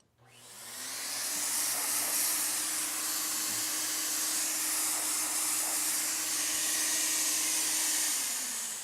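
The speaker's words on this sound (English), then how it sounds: "I turn the gun on, I spray a wall, I spray some cardboard, some test surface" A paint spray gun sprays PlastiDip liquid rubber onto a test surface, a loud, steady, continuous hiss with a faint motor hum underneath, starting abruptly and holding unbroken throughout.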